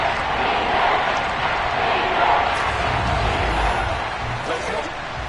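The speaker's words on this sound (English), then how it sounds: "this crowd's going to get even louder" A stadium crowd at an NFL game between the Texans and Bengals roars in a steady, dense wash of cheering and shouting. The noise stays loud and unbroken throughout.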